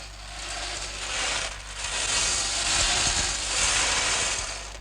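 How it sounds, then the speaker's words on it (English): A sea wash effect built from resin paper and gravel-crunch material, as in the 1960s BBC Radiophonic Workshop, gives a steady broad hiss that swells and ebbs in slow surges like breaking surf, with a low hum beneath. "We can turn this into sea wash."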